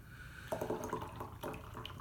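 Double IPA beer pours from a can into a glass, a close, quiet gurgling stream with bubbly splashes that swell in two short surges, no talk.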